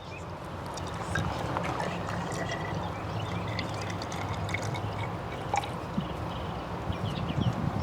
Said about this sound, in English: So we're going to measure out 30 milliliters of fresh water.